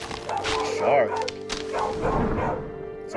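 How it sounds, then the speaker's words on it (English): A dog barks a few times in short yips near the mic, mixed under game music and someone talking over it. "Sorry about the dog, guys."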